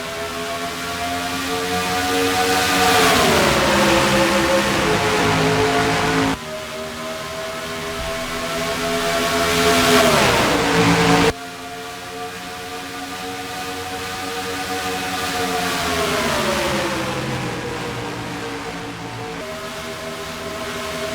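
Race cars in a NASCAR-style racing video game roar away at the green flag start at Chicagoland, engines rising together in loud sustained pitch sweeps as they accelerate, with no talk.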